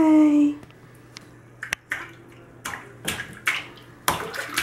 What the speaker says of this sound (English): Diamond is taking his first big boy bath.